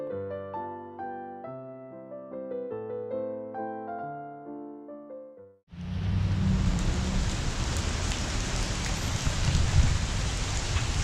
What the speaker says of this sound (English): It is raining, raining, raining, and more rain to come.